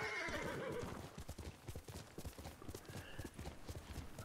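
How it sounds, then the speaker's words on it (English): A horse in the video game Ghost of Tsushima whinnies loudly at the start, then its hooves clip-clop in a quick, steady rhythm close by. "I keep losing my horse. There we go."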